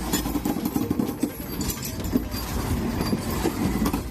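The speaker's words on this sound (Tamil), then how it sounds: "சரக்கு ரயில் என்ஜின் மூலம் வந்தே பாரத் ரயில் இழுத்துச் செல்லப்பட்ட வீடியோ வைரல்" A Vande Bharat train under tow behind a goods train engine rumbles along at a steady pace, a constant low rolling noise with faint clicks of wheels on rail joints.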